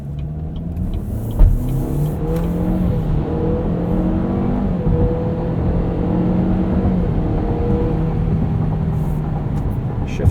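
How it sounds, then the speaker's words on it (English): A 2023 Cadillac XT4 Premium Luxury AWD accelerates from inside the cabin, its engine droning steadily and rising in pitch as the 9-speed automatic shifts smoothly through several gears, with a brief knock early on. "Shifts are pretty smooth from the 9-speed auto."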